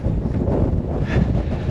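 Strong wind buffets the microphone on a hike at Merriam Crater, a constant low rumbling roar with gusty texture throughout.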